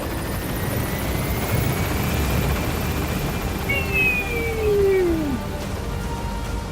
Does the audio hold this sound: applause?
no